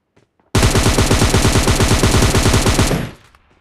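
An M762 rifle in a mobile battle-royale match fires a sustained full-auto spray of rapid, evenly spaced shots, loud and close, for about two and a half seconds before trailing off into a short echo.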